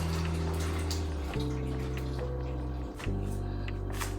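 Water runs and splashes steadily from a pot or colander as sliced yams are drained, with a brief dip in the flow partway through.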